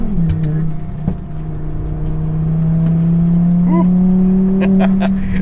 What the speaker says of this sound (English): having someone thrash your car